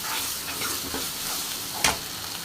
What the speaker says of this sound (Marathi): मसाला छान आता परतून येत आहे.